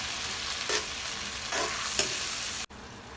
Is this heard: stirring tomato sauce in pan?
yes